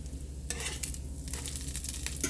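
Mackerel croquettes sizzle in a frying pan as the last ones are lifted out, with a soft continuous fry broken by short scraping bursts.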